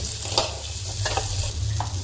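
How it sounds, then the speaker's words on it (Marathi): Steady sizzling of vegetables frying in ghee in a pan, with a few soft stirring scrapes, close and moderately quiet. "असं तुपात त्याला थोडा वेळ परतून घ्यायचं"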